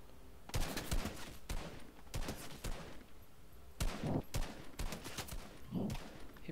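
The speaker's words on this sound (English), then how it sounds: "Oh, someone's firing at me." Bursts of Fortnite gunfire crackle in short, clustered volleys, several sharp reports per burst with gaps between, moderately distant and fairly quiet against low ambient noise.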